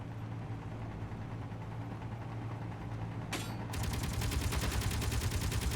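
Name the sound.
turrets firing in the video game Space Engineers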